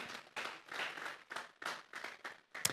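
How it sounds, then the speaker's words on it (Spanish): A church congregation at a Sunday service claps as an offering to God, with several bursts of hand clapping separated by short pauses and a sharp final clap. The clapping is faint and seems distant. "Vamos a darle una ofrenda de palmas a Dios en esta hora."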